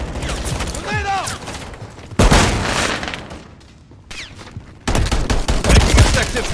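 Gunfire in the video game Call of Duty MW3 comes as dense, loud bursts of rapid shots, with a sudden heavy volley midway and another near the end, mixed with game voice callouts.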